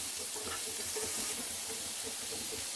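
Capsicum and other vegetables stir-fry in a pan for Hakka noodles, giving a soft, continuous sizzle with light scraping from the stirring at moderate distance.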